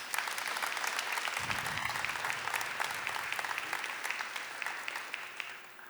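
Warm, sustained applause from a church congregation at a Catholic talk about Saint Padre Pio, steady clapping that gradually thins toward the end.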